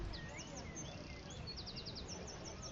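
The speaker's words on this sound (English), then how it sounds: "Birds feel a bit loud." Birds chirp and tweet steadily in the background, a chorus of small calls over a low outdoor hum.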